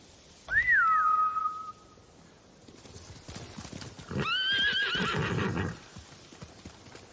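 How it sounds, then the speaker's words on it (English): A horse neighs loudly and whinnies, followed by another drawn-out neigh amid hoof clatter, with no talking, in the video game Ghost of Tsushima. "Bastards scared off the horses."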